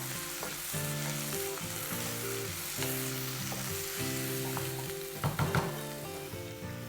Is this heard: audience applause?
no